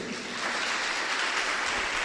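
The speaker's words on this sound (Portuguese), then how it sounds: "Dê uma salva de palmas para Jesus, amém?" Congregation applauding during a Wednesday evening church service: dense, steady clapping from many hands that fills the room evenly for a couple of seconds, with no voices over it.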